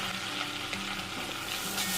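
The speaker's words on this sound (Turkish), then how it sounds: "Unu bir süre kokusu çıkana kadar kavuracağım." Flour toasts in melted butter and oil in a pot, giving a steady, soft sizzle with light stirring scrapes, close and quiet with no voices.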